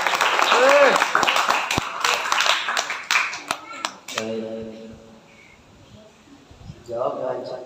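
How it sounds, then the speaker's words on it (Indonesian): Children clap their hands together in an Islamic lesson setting, a burst of rhythmic clapping mixed with voices at the start, then fading into quieter tones and murmurs. "Tepuk tangan dulu."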